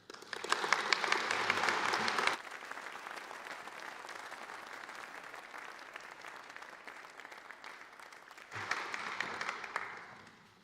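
An audience at a 2023 graduation ceremony breaks into loud applause to welcome the commencement speaker. It is strongest for the first two seconds, continues at a steady lower level, then swells again near the end.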